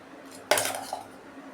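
A spoon mixing bottle gourd into curd in a bowl strikes once with a sharp metallic clink. Softer scraping and stirring follow, fading quickly into near quiet.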